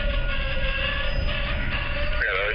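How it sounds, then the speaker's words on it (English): A Wheeling & Lake Erie freight train rolls past near Jewett, Ohio, a steady rumble of railcars with a faint high squeal. The sound holds throughout, with no talk. "this train came off of their tracks in Jewett"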